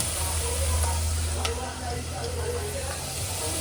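Spices sizzle and crackle loudly in hot oil, with occasional stirring scrapes over a constant frying hiss.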